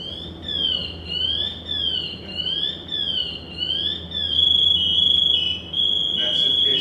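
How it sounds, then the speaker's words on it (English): A firefighter's motion alarm (PASS device) sounds a high, warbling electronic tone in repeated rising-falling sweeps, then shifts to a louder, steadier full-alarm shriek near the end, close by over low background rumble. "If you stop moving for a certain amount of time, it'll start that alarm. It starts out slowly, it'll get louder and louder and louder."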